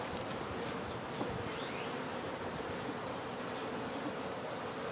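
Honey bees swarm and buzz at an exposed beehive with brittle comb, a dense, steady, close drone that fills the whole stretch with no talking.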